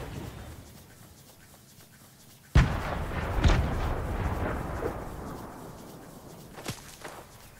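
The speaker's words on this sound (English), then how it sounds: "I just shot at my own decoys." Gunfire in Fortnite aimed at decoys: a sudden heavy blast followed by a second booming shot and rumbling echoes, with a lighter crack later, all fairly close and without talk over it.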